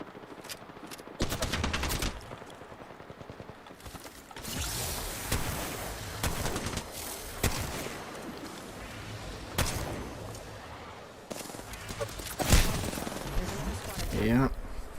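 Rapid automatic gunfire from a shooter video game, firing in repeated bursts with sharp single cracks scattered between, close and loud, with a voice talking faintly underneath.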